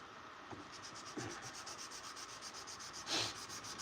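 Sandpaper is rubbed by hand along a steel knife blade, soft close scratching strokes repeating rhythmically at a low level with a few sharper scrapes.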